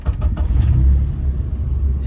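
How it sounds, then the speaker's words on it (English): A Honda Civic with a swapped K24A2 engine rumbles low and close at idle just after starting, a steady deep throb with a few quick clicks at the very beginning. "right now we're only gonna start this car up and get it warmed up"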